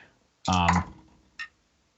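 A voice imitates griffins clicking back and forth during a Dungeons and Dragons tabletop session, a short burst of vocal clicking followed by one brief click after a pause.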